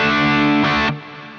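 A distorted electric guitar chord through an Ampero II Stomp modeling a Soldano 100 into a 4x12 cabinet, with delay and reverb, rings out loud, then a second strike, dropping into a softer, lingering echo and reverb tail.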